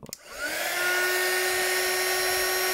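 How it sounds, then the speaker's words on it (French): A heat gun for heat embossing powder starts with a click, spins up, then holds a steady, close, loud whirring hiss with a faint high whine on top. "embosser, donc, avec mon pistolet à chaleur"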